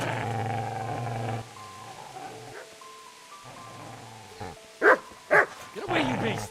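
A dog gives two sharp, close barks in quick succession partway through, set against soft background music and a few voices.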